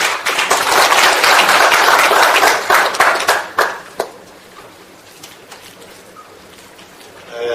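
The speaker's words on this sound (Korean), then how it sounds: "큰 박수로 맞이해 주시면 감사하겠습니다." Dense applause from an audience at a National Assembly seminar fills the first four seconds, then fades out abruptly into a quiet room with only faint stray claps.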